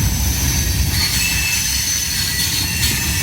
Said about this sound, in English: The flange noise is something here, ain't it?